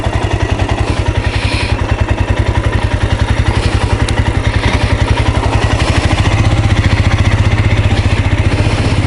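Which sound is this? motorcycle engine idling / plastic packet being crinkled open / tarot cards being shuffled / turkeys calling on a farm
motorcycle engine idling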